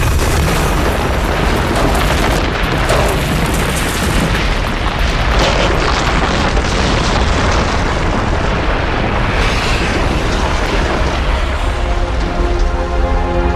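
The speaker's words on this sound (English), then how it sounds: "Then, they catastrophically collide." A documentary explosion effect of two planets catastrophically colliding, a continuous loud roaring rumble with dense crackling debris that barely eases over about thirteen seconds.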